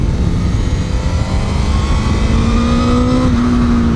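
A Honda Fireblade CBR1000RR-R SP sportbike engine pulls hard under throttle, its tone climbing steadily in pitch as the bike accelerates, loud and close with no talking.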